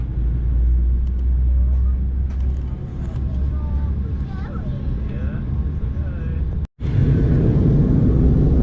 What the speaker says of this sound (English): just being pushed out now. It should soon be taking off.